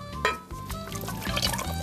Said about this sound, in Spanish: le ponemos un poquito más de vinagre, un poquito más de aceite, un poco de agua incluso